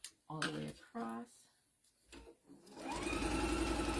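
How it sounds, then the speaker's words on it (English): A sewing machine runs a steady quarter-inch seam across a tea towel, its fast even whir starting after a few words of talk and continuing loudly to the end. "I'm going to sew it a 1/4 inch. All the way across."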